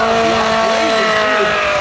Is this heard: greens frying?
no